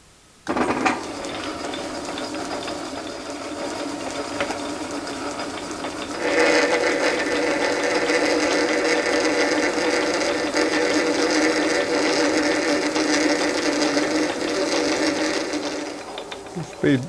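A metal lathe cuts right-hand threads while building a follow rest, giving a steady mechanical whir with a fine rattle that jumps louder and busier partway through and then runs on evenly.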